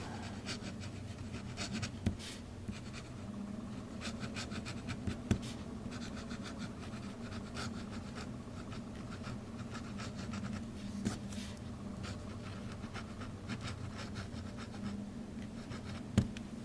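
A Hero 367 fountain pen with an extra fine nib writes on paper, a soft continuous scratching with light strokes and occasional small ticks, quiet and close.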